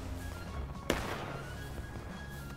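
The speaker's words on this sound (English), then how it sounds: "A few sporadic shots." A single sharp musket-like gunshot cracks out once near the start over a steady background hum, a sporadic shot in the Civil War battle game War of Rights at Bloody Lane, with no other shots following.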